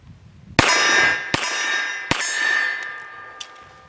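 A Canik TP9 SFx pistol with a 5.2-inch barrel fires 165-grain Freedom Munitions Hush subsonic rounds, giving three sharp, close reports about three-quarters of a second apart, each followed by a metallic ringing tail, and then a fainter click.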